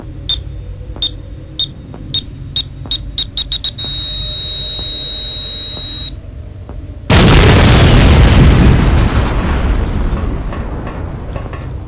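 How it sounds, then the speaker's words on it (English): A rapid series of electronic beeps speeds up into a steady alarm tone as a hack tool triggers a hack lock, then a loud booming explosion with a long rumbling roar, in a game. "Using the hack tool on this hack lock will trigger an explosion."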